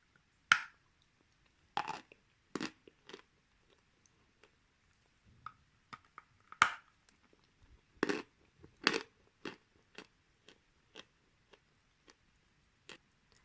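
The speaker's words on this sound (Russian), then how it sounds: "Откусывается глинка с хрустом. Также со звонким хрустом жуется." Crunchy Astana Ideal edible clay is bitten and chewed close up, giving sharp, scattered crisp cracks with quiet gaps between them over several seconds, with no talking.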